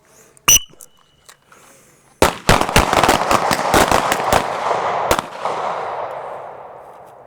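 Two sharp pistol shots fired in quick succession at a training range, loud and close, followed by a burst of many more rapid shots from other shooters along the firing line, echoing and decaying.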